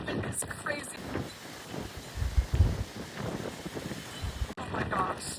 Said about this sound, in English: The wind is so strong.